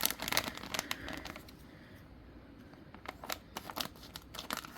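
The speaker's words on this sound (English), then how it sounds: "With these bags, I'm always terrified of opening or cutting them open." Plastic bag being opened and cut with scissors, with close crinkling and tearing rustles arriving in irregular bursts, quieter in the middle and busier again toward the end, with no talking.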